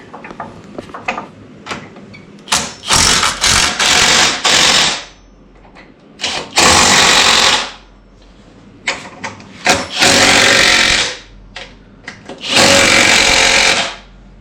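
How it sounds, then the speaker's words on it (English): An impact driver runs in loud, rattling bursts of a few seconds each, several in sequence with pauses, tightening winch mounting bolts on a Jeep TJ during a Harbor Freight 9500 winch install. "we just did it with an impact driver"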